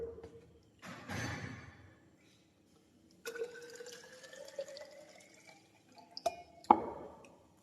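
Water runs quietly into a small container with a faintly rising pitch as it fills. Brief splashy bursts come before it, and a sharp clink sounds near the end.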